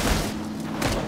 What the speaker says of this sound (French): non, c'est un tir